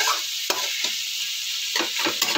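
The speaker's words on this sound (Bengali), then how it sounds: "কিন্তু আমি ভাজাটা আরেকটু করব, আরও 5-10 মিনিট এটা আমি করে নেব।" Potatoes and vegetables fry in a pan with a steady close sizzle, broken by several sharp scraping stirs of a spatula against the metal.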